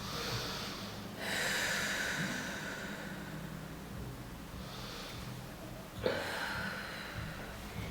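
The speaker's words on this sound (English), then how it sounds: "Full breaths." Slow, deep breaths during a yoga session for spinal health, each long airy inhale and exhale close to the microphone, with two full breath cycles and quiet pauses between.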